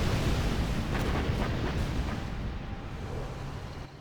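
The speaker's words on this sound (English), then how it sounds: "Here comes carpet bomb again from ExCaL." Carpet bomb explosions in a strategy game match, a dense rolling rumble of overlapping blasts that starts loud and slowly fades over a few seconds.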